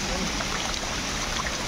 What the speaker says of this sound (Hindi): ये देखो यहाँ पे झरना बहुत